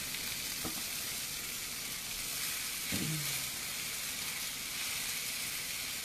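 Greens wilting in a hot thick skillet on low heat, a soft even sizzle with a faint hiss throughout and a couple of brief knocks from handling, no talk.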